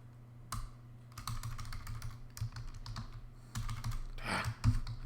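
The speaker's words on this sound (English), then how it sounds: "Boy, my typing is great." Computer keyboard typing in a Microsoft Teams chat, a close, irregular patter of key clicks in bursts with short pauses, alone without talk.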